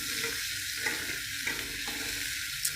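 Tomato sizzles in hot frying oil with garlic and onion, a steady crackling fry with a few stirring scrapes against the pan, close and continuous with no talking.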